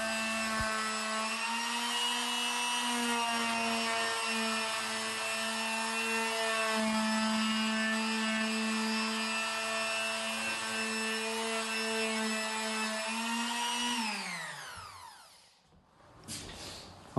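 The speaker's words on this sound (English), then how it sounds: "using an orbital sander with 120 grit sandpaper, sand the filler back until it's flat with the rest of the frame." An orbital sander with 120 grit sandpaper smooths wood filler on a damaged door frame, a loud steady electric whine with a grinding hum that holds for about fourteen seconds, then spins down and stops.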